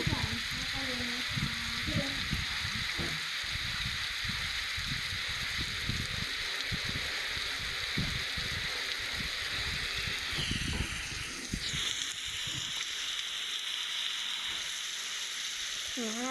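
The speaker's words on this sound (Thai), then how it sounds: "ถึงตอนถึงก็ฝนตกพอดี" Steady hissing rain pours down throughout, with some faint voices and rumbling movement underneath early on.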